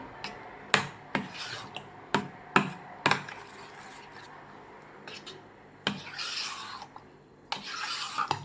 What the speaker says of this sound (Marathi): तर हे दही पूर्णपणे यामध्ये मिक्स करून घ्यायचं आहे आपल्याला.